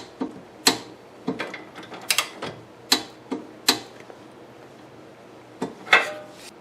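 A ratchet wrench tightens the upper nut on a 2001 Lexus IS300 front suspension strut, giving sharp, separate metallic clicks and short ratcheting bursts in an irregular rhythm, close up, with quiet gaps between them.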